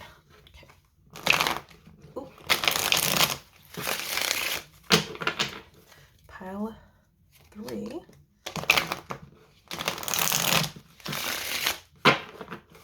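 Repeated bursts of crisp tarot card shuffling, riffles and bridges in quick succession, with short pauses and a few brief spoken words between them.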